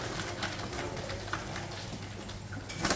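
Pigeons coo steadily at a bird auction, a low continuous murmur of many birds filling the space with faint background chatter throughout.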